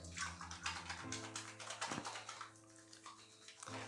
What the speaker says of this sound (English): we are going to start by pouring off the bloom water and putting that on as a pre-shave